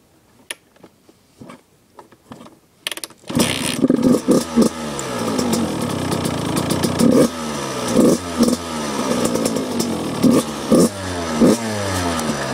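A 2002 Suzuki RM85 dirt bike starts after a few quiet knocks, then its two-stroke engine runs loud and close with repeated revving bursts and a rattly idle, no talk.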